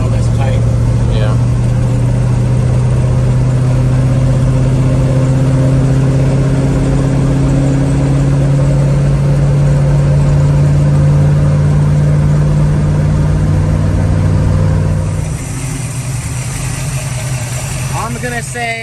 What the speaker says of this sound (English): That sound is a symphony of hydraulic lifters doing their job.